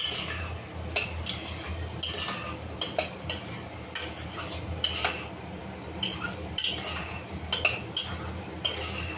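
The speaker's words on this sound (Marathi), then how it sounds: "मटार पण एकदम छान परतून घ्यायचं आपण।" Green peas are stirred and sautéed in a pan, with a spoon scraping and clinking against the metal in irregular bursts over a faint sizzle, close and fairly quiet.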